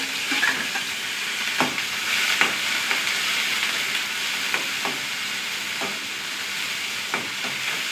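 Six or seven small onions and two green chillies fry in hot coconut oil with a constant close sizzle. Regular clicks and scrapes from stirring cut through it every second or so.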